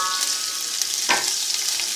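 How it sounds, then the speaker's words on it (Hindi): Chopped onions fry in hot ghee in a cooking pot for beef pulao biryani, giving a steady, bright sizzle with a brief stirring scrape about halfway through. No talking. "अब हम ये प्याज जो है इसमें डालकर ब्राउन कर लेंगे"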